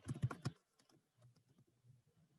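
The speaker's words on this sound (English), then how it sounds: "Sorry, typing." Keys clatter on a computer keyboard during an online meeting: a quick burst of several loud taps, then a pause and softer, scattered keystrokes nearby.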